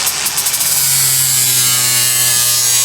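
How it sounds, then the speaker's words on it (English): An angle grinder works on the body panel of a long-abandoned 340 Duster, producing a loud, steady, high-pitched whine and grinding rasp, close and continuous, with no talk. "I'm gonna play with the grinder a little bit on this angle"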